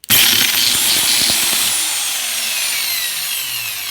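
Repaired electric power drill switched on and running, a sharp start followed by a continuous high whine that eases slightly in pitch as it spins, close and loud with no talk.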